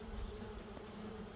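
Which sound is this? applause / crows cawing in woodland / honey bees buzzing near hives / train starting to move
honey bees buzzing near hives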